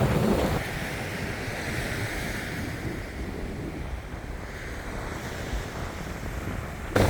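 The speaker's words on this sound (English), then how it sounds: "I would like to get in the water in some small waves anyhow" Ocean surf breaking at Kuta Beach in Bali, a steady loud wash of waves with wind buffeting the microphone, swelling again near the end, no voices.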